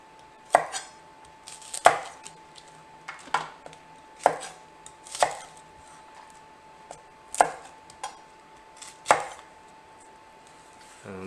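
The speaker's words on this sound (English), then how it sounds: "I'm just going to take a couple of these and take the bottoms off. Half them." A knife halves Brussels sprouts on a cutting board, about ten crisp chops spaced a second or so apart, close and isolated against a quiet kitchen.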